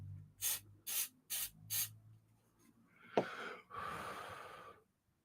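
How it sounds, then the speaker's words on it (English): An aerosol can sprays in four short, close hisses, followed by a sharp click and a longer continuous spray burst. "I'm just going to spray away from the screen."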